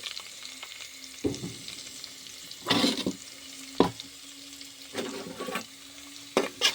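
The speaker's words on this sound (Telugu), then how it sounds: "ఆనియన్స్ పీసెస్ ఏవైతే ఉన్నాయో అవి వేసేసుకుని ఒకసారి ఫ్రై చేసుకుందాము" Onion pieces tossed into hot tempering for a cauliflower and broad bean curry sizzle steadily in oil, with several sharp stirring scrapes and clatters of the spoon. The frying is close and fairly loud, with no talking.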